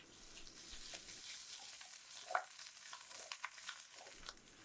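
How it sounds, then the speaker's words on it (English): Zucchini frying in ghee in a pan hisses and crackles steadily, a soft, close sizzle with scattered pops and stirring scrapes, no voices. "leave the ghee in the pan to fry the zucchinis with it."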